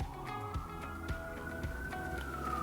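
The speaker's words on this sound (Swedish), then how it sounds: "Alltså det är typ en brandbil eller något" Emergency vehicle siren, a fire truck or police car, passing on a Manhattan street and heard from inside an apartment, a wailing tone rising and falling at moderate distance over faint city background.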